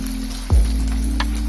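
Food frying gently in oil over a low flame, a steady close sizzle with a soft knock at the start and a brief brighter crackle near the end, no voices.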